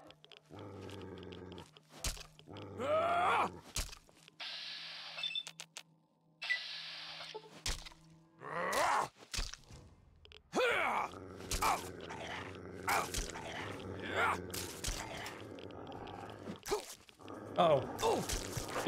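Hostile dogs in the video game Fallout Zero, snarling and growling in repeated bursts amid combat noises and gunfire-like hits, with someone talking intermittently over the action.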